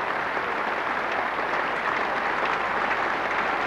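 A cricket crowd at Lord's in 1984, during Sri Lanka's first innings against England, rises to applaud a departing batsman: continuous, full-bodied clapping from a large stand, steady and loud throughout with no voices.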